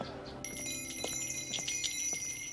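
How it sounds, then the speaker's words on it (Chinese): A wind chime hangs in a large residential compound at night. It gives bright, shimmering metallic tones that ring on and are re-struck several times, fairly close and clear. "这风铃能防住贼吗？"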